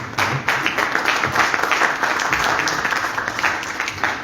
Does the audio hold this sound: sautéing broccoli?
no